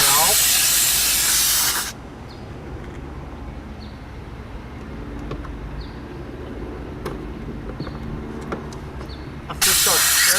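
Air hisses loudly out of a tire once the valve core is pulled, a steady rush at the start that drops away, then returns near the end, with faint clicks and handling noises between.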